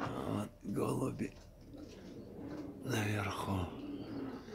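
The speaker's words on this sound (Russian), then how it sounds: "Вот голуби" Armenian fighting pigeons coo in low, soft, repeated phrases, two clear bursts with quieter murmuring between, fairly close and without other talk over them.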